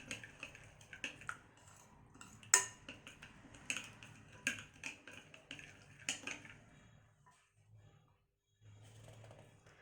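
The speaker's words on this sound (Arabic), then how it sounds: "اقلب الخليط ده كويس جدا" A utensil stirring a coleslaw mixture of shredded cabbage in a bowl, giving irregular close clinks and scraping taps with soft rustling, ending with a quieter pause, no talking.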